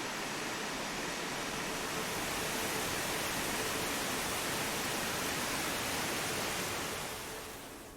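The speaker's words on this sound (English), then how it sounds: "Creating a small chasm filled with wee pools and waterfalls." Small waterfalls spill through wee pools in a narrow mountain-stream chasm on Beinn Odhar near Tyndrum, giving a steady, dense rush of water that stays constant and close throughout, then eases slightly at the very end.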